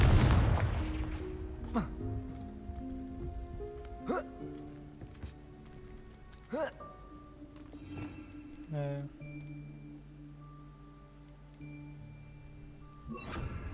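Confringo fire spell cast in Hogwarts Legacy, with sharp impact bursts near 2, 4, 6.5 and 9 seconds over a continuous bed of magical tonal hums and game ambience.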